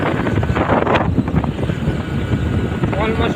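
Hero Splendor+ motorcycle ridden at about 60 km/h on the road to Deodar, heard as loud, continuous wind buffeting the microphone over a low engine rumble, with no talking.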